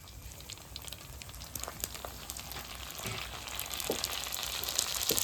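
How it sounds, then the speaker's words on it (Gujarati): Puris deep fry in hot oil, with a continuous bubbling sizzle and light crackles at moderate distance that grow a little busier and louder toward the end, with no talking. "હાલો ભાઈ જો પૂરીઓ આવી રીતે કંઈક તળાય છે."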